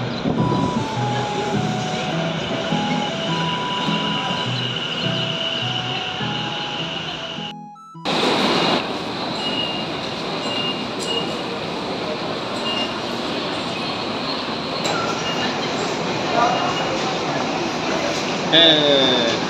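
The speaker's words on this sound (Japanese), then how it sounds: "地下鉄だ。" A subway train ride between Ikebukuro and Shibuya in Tokyo: a continuous loud rumble and hum of the running train, interrupted briefly by a short cut, with a chime-like tone near the end.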